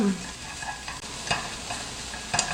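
Beef stir-frying on low heat for japchae gives a faint, steady sizzle, with a few soft scrapes and taps as it is turned in the pan.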